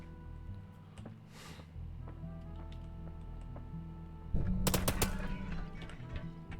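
Tommy gun firing in the video game Blacktrace, a loud burst of rapid automatic shots breaking in partway through over steady game ambience and music.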